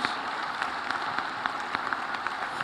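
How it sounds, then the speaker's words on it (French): Large audience applauding at a formal presidential address in Burundi, a dense steady wash of many hands clapping throughout, fairly distant and even, with no voices on top. "Beaucoup d'applaudissements."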